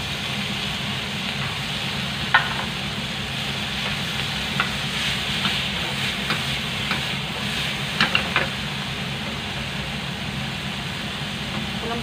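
Tomatoes drop into onions frying in a pan for sarciadong isda, a steady close sizzle with occasional clinks and taps of a utensil stirring against the pan, no talking.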